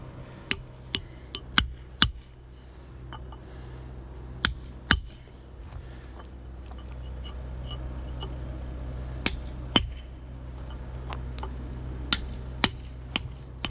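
Small hammer tapping flagstone along a scribed line to split it, a dozen or so sharp, close clinks in irregular clusters over a low background rumble.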